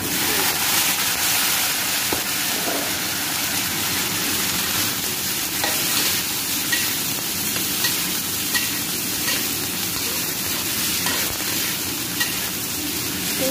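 Cap cay vegetables stir-fried in a hot pan, a loud continuous dense sizzle with constant scraping and tossing, close up and without any voice.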